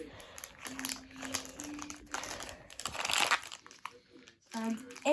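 Plastic bag crinkling as it is opened: loud crackling bursts come in uneven clusters, close by, with talking mixed in.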